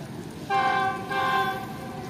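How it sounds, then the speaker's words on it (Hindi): A GU40 locomotive hauling the Karakoram Express between Karachi and Lahore sounds its whistle in two long, loud, steady blasts close by, over a background of rumble. "विसल से आप लोग समझ गए होंगे GU40 लगा हुआ है"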